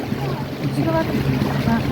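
A boat moves across the lake at Burabay, giving a steady low wash of water and motion noise. Faint voices and tonal sounds come and go over it.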